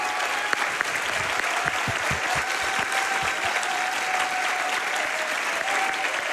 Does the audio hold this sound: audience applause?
yes